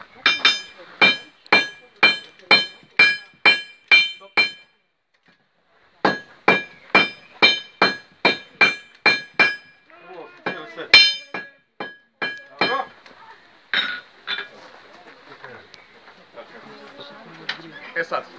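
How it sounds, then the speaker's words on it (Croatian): Hand hammers forging red-hot steel at a blacksmith demonstration, two smiths striking in turns with a smaller and a larger hammer: loud, evenly spaced ringing blows in two bursts, then scattered clanks and clinks with voices talking. "Uvijek jedan drži čelik ima manji čekić, a drugi ima veći čekić."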